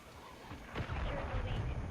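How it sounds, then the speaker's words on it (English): Cruise missile strike in the video game Call of Duty: a deep, rumbling boom swells in after a quiet lead-in and rolls on as a sustained heavy low roar, loud and close. "Friendly cruise missile deployed."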